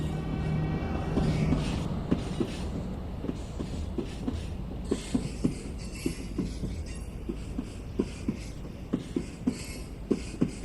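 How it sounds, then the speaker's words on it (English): A Vectron BR 193 electric locomotive in Train Sim World 4 rolling along the line, its low rumble carrying a steady run of rhythmic clickety-clack wheel beats over rail joints that grow sharper and more regular. "Really nice track road sounds."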